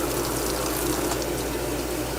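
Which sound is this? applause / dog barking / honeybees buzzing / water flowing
water flowing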